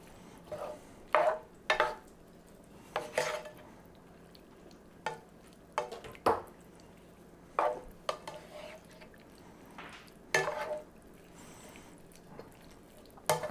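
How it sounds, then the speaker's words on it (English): Wet stirring of ground turkey with sauce in a bowl for smothered burritos, a series of short squelching, scraping bursts in an irregular rhythm, close and fairly quiet, with no talking. "Get all that sauce all mixed up."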